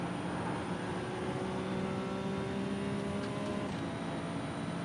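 A Ferrari 296 Challenge racing car engine in the iRacing game, climbing steadily in pitch as it accelerates in fifth gear, a sustained, fairly quiet droning whine with a brief shift near the end.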